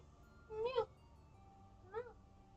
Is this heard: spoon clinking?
no